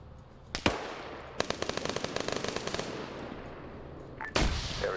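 Gunfire and a grenade in a military video game training op at night, with single loud blasts at the start and end framing a rapid burst of automatic fire in the middle.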